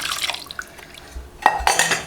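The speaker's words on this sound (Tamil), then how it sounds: "இப்போ வந்து இந்த பருப்பு தண்ணி ஊற்றிடலாம்" Cooked green gram water poured into a simmering green gram and drumstick kulambu, with soft liquid splashes and a louder pouring gush near the end, against faint pan clinks.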